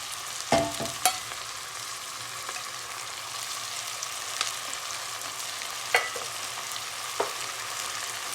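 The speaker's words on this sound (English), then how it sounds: "fry the ginger and garlic till the raw smell goes" Ginger, garlic and vegetables fry for vegetable pilau rice, a soft continuous sizzle broken by a few sharp clinks and scrapes of stirring, with no voices.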